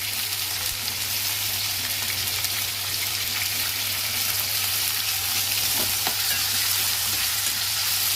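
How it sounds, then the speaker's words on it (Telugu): Onions, green chillies and curry leaves sizzle steadily in hot oil, a dense, even frying hiss with faint crackles throughout and no speech. "నూనె అయితే వేడైపోయింది. దీంట్లోకి 3 ఉల్లిగడ్డ, 4 పచ్చిమిర్చి, రెండు రెమ్మలు కళ్యాణ గుడక,"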